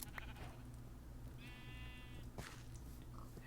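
A video-game sheep gives a single clear bleat lasting about a second, heard alone over a constant low ambient hum.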